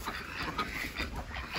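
Soft, low quacking and splashing from muscovy ducks bathing nearby, three females and a male, a steady murmur of bird sounds over faint background noise.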